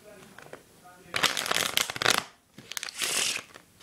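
Playing cards are shuffled in two quick riffling bursts with a short pause between them, close and crisp, with a light rustle at the start.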